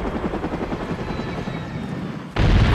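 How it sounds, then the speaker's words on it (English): Helicopter in the video game Far Cry 5 with a rapid rotor chop that pulses steadily, then a sudden louder burst of noise near the end. No speech is heard. "Is that a helicopter? Bro, I fucking love helicopters."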